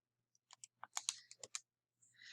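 Numbers are tapped into a calculator in a quick run of light, close clicks of uneven spacing, quiet against a near-silent background.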